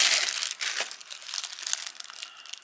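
Crinkly plastic and paper packaging rustles and crumples as a boxed Nemu shiba inu designer toy figure and its accessory box are opened, with steady close-up handling noise throughout.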